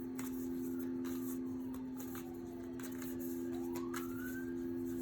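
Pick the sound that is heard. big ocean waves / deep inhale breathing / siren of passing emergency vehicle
siren of passing emergency vehicle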